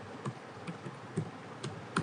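Soft clicks of a computer keyboard while typing a formula in Excel, a handful of separate keystrokes spaced irregularly, close and quiet with no talk.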